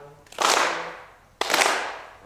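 Unison hand claps from a church congregation at a New Year's Eve service, two strong collective claps about a second apart, each crack followed by a smeared tail of scattered hands and room echo.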